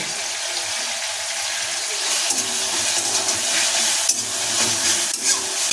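Tomato, green chilli, salt and spices fry in a wok with a steady, moist sizzle, while a utensil stirs and scrapes now and then, close and moderately loud with no talking.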